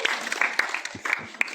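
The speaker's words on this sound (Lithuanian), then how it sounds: "Plojimai jiems." Wedding guests at a marriage registration ceremony give the couple a brief burst of scattered hand claps, light and uneven, lasting little more than a second.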